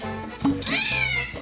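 A cat gives a single drawn-out meow, rising then falling, over quiet background music.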